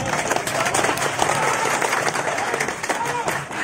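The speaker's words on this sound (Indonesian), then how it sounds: "Kita berikan tepuk tangan." Dense, steady applause from a crowd at a Golkar party political speech event, continuous clapping filling the room at fairly loud level with some voices mixed in.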